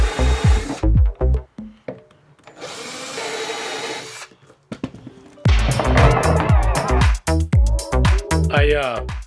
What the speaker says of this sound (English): I'm going to be able to drill holes and bolt this in place